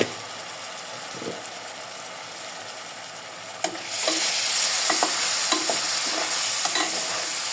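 Spice paste with chilli powder and turmeric sautés in a pan as it is stirred, first a quieter hiss and then a sudden louder, sustained sizzle with intermittent scraping.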